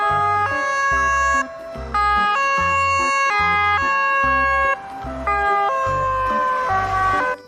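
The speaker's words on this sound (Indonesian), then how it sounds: "Wadidaw, ada mobil ambulans." A toy ambulance gives off a loud, steady electronic siren close by, its tone stepping up and down in a repeating two-note wail with brief pauses between the cycles.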